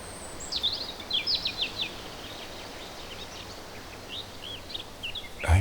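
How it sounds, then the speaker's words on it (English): Scattered high bird chirps and short song phrases over a quiet outdoor background, fairly faint, with a brief rustle at the end. "I hear the birds singing."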